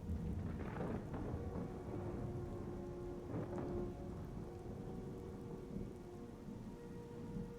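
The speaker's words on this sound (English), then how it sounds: "Each drop of rain that hits you is nature's gentle way of reminding you that you aren't in charge." Steady rain pours in a Skyrim thunderstorm, a soft, hissing patter with low rolls of thunder swelling twice. Faint and distant, with no voices.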